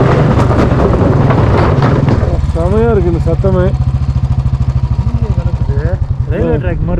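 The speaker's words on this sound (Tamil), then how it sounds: "அந்த உட்டன் பிரிட்ஜ் உட்டு சவுண்டு பயங்கரமாக கேட்குது" A motorbike crossing a wooden bridge in Ladakh makes a rapid, regular rumbling rattle as it idles and revs, close by, while people talk over it.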